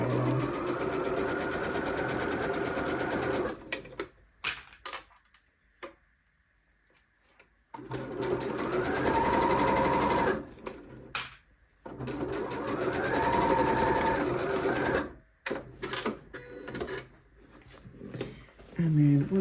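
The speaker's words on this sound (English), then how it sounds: "And then we are just going to sew all the way along." Sewing machine stitching the full length of a zippy pouch seam with back tacks at start and finish, running in long steady bursts with short pauses and some background voice.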